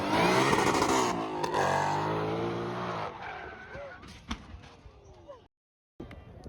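A Ford Mustang's engine roars and its tires squeal loudly as it skids, then a sharp thud of the crash breaks through before the sound cuts out briefly.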